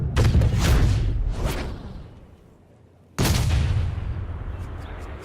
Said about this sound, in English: He just blasted that one down the fairway.